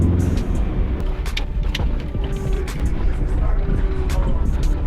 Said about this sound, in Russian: вот прям машина стала стабильной на низких оборотах